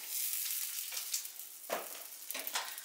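Butter sizzling in a frying pan before eggs go in, a steady close hiss with brief crackling swells and spatters over a few seconds.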